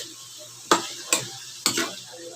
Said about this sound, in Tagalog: So halo-haloin lang natin guys.